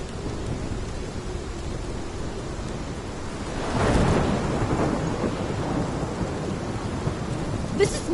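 A heavy thunderstorm in the video game Life is Strange: steady rain hisses throughout while a deep thunder rumble swells in midway and lingers before fading back into the downpour.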